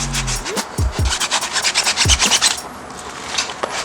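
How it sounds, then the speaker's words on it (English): Sandpaper is scrubbed by hand across the rear main seal cover of a 1.6 Miata engine, a quick rasping back-and-forth rhythm heard up close, with a few low knocks and a quieter stretch at the end. "I like to take a sanding block or a piece of sandpaper, something really light"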